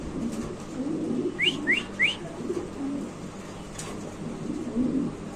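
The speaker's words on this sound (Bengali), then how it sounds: "এখানে আছে এক পিস কবুতর" King pigeons coo in a pigeon market. Soft, low cooing rolls on under a short run of three quick bright whistles and scattered chirps, close and moderately loud against a busy murmuring background.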